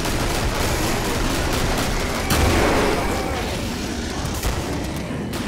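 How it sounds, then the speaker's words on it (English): Grenades exploding in the video game Killing Floor, a dense wash of blasts and gunfire with a heavier boom partway through, loud and continuous under game noise. "Random spammage of grenades."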